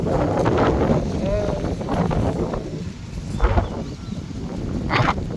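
Strong, dry wind buffeting an outdoor microphone, gusting roughly and unevenly with a few sharper thumps, and faint background sounds underneath.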